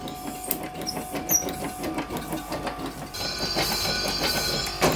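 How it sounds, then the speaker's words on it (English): A Locomobile model steam engine running on compressed air at about 10 psi chuffs and clatters in quick, steady rhythm, with a hiss of air and mechanical ticking close by. "This is running quite nicely. It's on a little wee compressor on about 10 psi of air"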